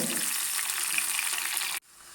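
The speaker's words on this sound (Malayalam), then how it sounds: "എണ്ണ തിളച്ച ശേഷം കഷ്ണങ്ങൾ ഇതിലേക്ക് ഇട്ട് കൊടുക്കുന്നുണ്ട്" Potato pieces fry in hot oil in a wok, giving a loud, close, continuous sizzle that cuts off abruptly partway through, leaving quiet background.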